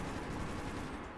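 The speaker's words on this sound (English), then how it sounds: "Who's shooting?" Gunfire in Metro 2033 Redux, a short burst of rapid, densely packed shots sounding at constant loudness throughout, with no talk over it.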